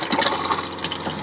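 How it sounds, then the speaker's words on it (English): A push-button flush on a marine cassette toilet in a pop-up camper, a brief close rush of water gushing into the bowl. "And you got a push button flushing."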